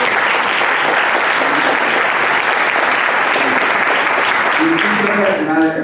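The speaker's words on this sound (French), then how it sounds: "Applaudissez-le encore une fois." An audience at a literary gathering applauds loudly and steadily for about six seconds, the clapping dense and close, with some voices mixed in near the end.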